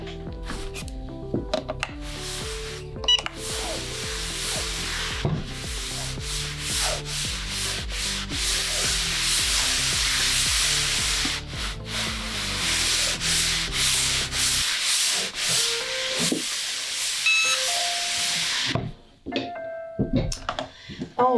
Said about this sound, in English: I'm gonna use my Easy Press one more time to get a few more wrinkles out